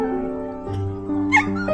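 A dog whimpers and gives a soft yip, with a few short high whines over a steady low background, close and moderately loud.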